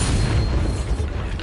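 A Bombarda spell explodes in Hogwarts Legacy as one short, deep, rumbling boom that fills the moment and then fades quickly.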